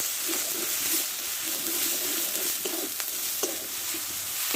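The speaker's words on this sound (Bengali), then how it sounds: "এখন মশলাটা কষে নেবো" Spice masala stir-fried in a pan for a vegetable dish, giving a steady close sizzle with scraping spatula strokes at irregular intervals and no speech.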